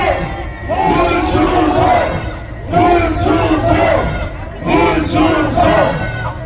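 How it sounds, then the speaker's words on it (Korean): A crowd gathered outside the Seoul Central District Court shouts and cheers for a young man named Moon Su-seong in three loud, swelling bursts, each rising and then fading. "우리 환호 한번 해줘야 될 것 같아"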